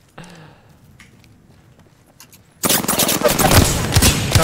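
Rapid, loud automatic gunfire erupts in an Apex Legends match after a quiet stretch of faint footsteps, a dense continuous burst filling the last seconds.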